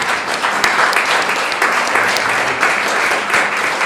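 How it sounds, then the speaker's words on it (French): Sustained audience applause fills the room at the close of a French cultural round table, steady dense clapping throughout with a faint voice briefly underneath. "On peut les applaudir."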